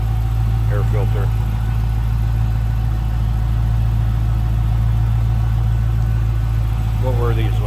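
A 2010 Dodge Challenger R/T with its 5.7 liter Hemi V8 and K&N cold air intake idles steadily and loudly up close, a constant low rumble while a voice talks briefly over it.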